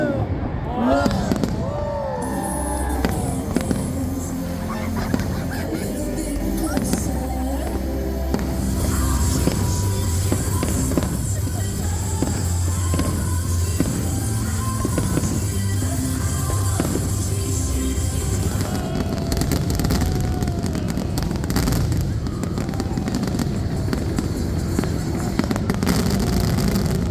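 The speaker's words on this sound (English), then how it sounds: "the celebratory fireworks served as a precursor to the larger Friday night fireworks show that followed, lighting up the Pittsburgh sky" Celebratory fireworks bursting above a Pittsburgh baseball stadium on a Friday night, with repeated booms and crackling pops over a continuous crowd murmur and voices.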